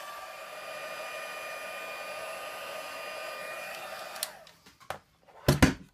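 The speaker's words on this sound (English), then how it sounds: "we'll go ahead and heat it up with the heat tool" An embossing heat tool blows a steady, airy whine over cardstock for about four seconds, then cuts off, followed by a few light taps and handling clicks.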